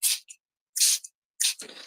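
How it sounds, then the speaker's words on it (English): A hand spray bottle mists a folded coffee filter in three short, sharp hissing bursts, evenly spaced and close, with a faint wet patter trailing the last spray. "Right, so we're going to give that a spray."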